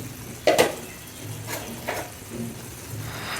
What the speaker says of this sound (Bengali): খুলে ভালো মতো নাড়া দিয়ে নিলাম